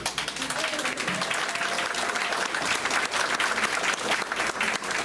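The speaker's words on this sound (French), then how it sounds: "Je vous demande d'applaudir" Lively audience applause at an anniversary gala evening for a radio station, dense and sustained throughout with a few voices talking underneath.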